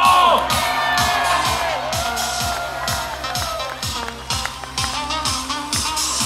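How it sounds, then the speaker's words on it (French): A crowd cheers and whoops at a performer's entrance over a steady, pulsing background beat, with shouts and loose clapping layered throughout at a fairly loud level. "Nous rejoint sous un tonnerre d'applaudissements Anémone Barboton."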